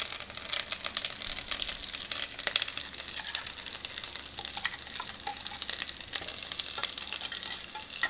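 Cumin seeds, curry leaves and a ground coriander paste crackle and sizzle in a hot pan, a steady bright frying hiss with dense popping and occasional stirring scrapes, close and continuous without talk.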